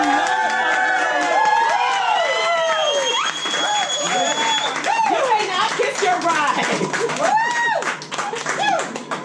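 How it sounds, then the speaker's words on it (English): Wedding guests clapping and cheering loudly together, a dense burst of applause layered with whoops and shouted voices throughout, close and sustained. "Guests, I now ask that you clap your hands and make some noise."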